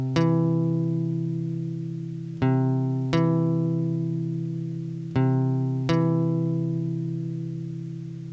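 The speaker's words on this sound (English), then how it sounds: "A major third sounds like this." Guitar sounding a major third interval, two notes struck together and left ringing, repeated four times with slow decay between strikes, clear and close with no talk.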